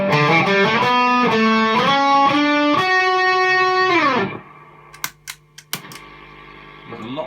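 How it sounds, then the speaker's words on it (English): Distorted electric guitar chords through amp distortion and an Electro-Harmonix Soul Food overdrive pedal ring out loud and gritty, strummed in a repeating rhythm, then fade to a few faint clicks and a quieter sustained chord. "so this is just the amp distortion with the soul food on"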